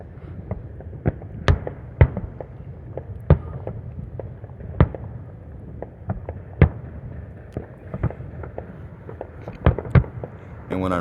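Fireworks going off all around at night, about a dozen sharp cracks and pops spaced irregularly over a constant low rumble, moderately loud with no voices.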